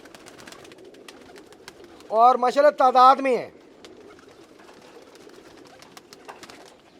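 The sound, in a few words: pigeons for sale cooing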